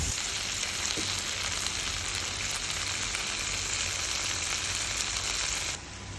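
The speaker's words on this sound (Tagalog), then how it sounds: "Let's fry onion and garlic." Onion, garlic and beef frying in a pan, giving a steady, dense sizzle that holds at an even level throughout and drops slightly near the end, with no voices.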